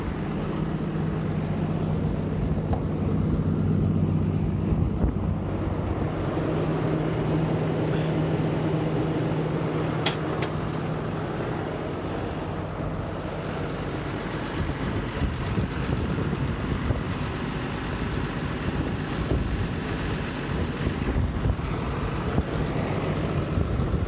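A 300 hp Cummins diesel truck engine with automatic transmission runs steadily at idle, a loud continuous low rumble with no talking.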